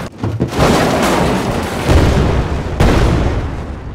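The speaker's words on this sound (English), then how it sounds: "Explosions." Explosion sound effect previewed in Unreal Engine: a loud, dense, broadband blast that rumbles on for about four seconds with fresh surges partway through, heard on its own without talk.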